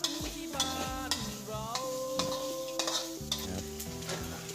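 Frog curry with shredded kaffir lime leaves is stir-fried in a pan, with sharp utensil scrapes striking about once a second over a soft sizzle. Steady background music plays underneath, and no one talks.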